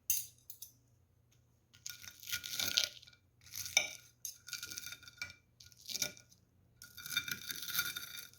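A knife cuts through crispy, dry-battered fish and vegetable tempura, giving several separate bursts of crackling crunch spread over a few seconds, fairly close and alone with no talk.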